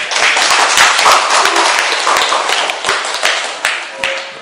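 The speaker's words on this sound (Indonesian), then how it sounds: "tepuk tangan untuk kehadirannya" Applause for a guest in a school classroom: dense, steady clapping from a group of students fills the whole stretch, fairly loud and close, with a few sharper individual claps standing out toward the end.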